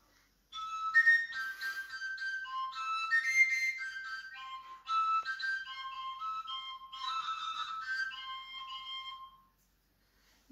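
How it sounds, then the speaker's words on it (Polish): A long holeless folk pipe sounded only by overblowing, giving a series of clear whistling tones that jump between harmonic steps in phrases, heard alone and fairly close. "I dłuższa, która nie ma dziurek, tylko za pomocą zadęcia, czyli dmuchu, wydobywa się dźwięk, brzmi tak."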